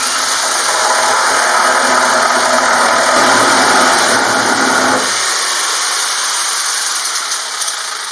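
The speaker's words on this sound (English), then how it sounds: "now I have to cut out a piece where the separator will come" Power tool cutting a piece out of a plastic bucket, a loud, steady, high-pitched whine with a rattling buzz that thins out partway through as the cut finishes.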